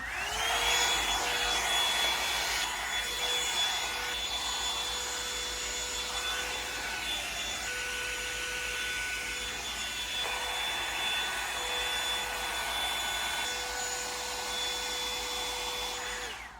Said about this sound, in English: I like to try and let it air dry a bit before I blow dry it.